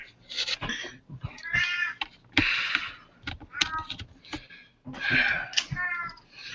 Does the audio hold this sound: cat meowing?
yes